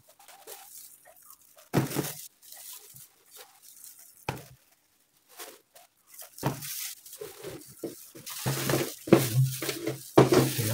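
Lemang tin shaker moulds being handled and taken out of an oven: intermittent metallic clinks and knocks, close and moderately loud, separated by quiet gaps and growing busier toward the end.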